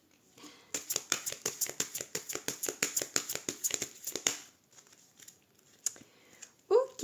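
A deck of large tarot cards is handled during a cut, making a quick run of about two dozen crisp, close card flicks that stop abruptly, followed by quieter scattered taps.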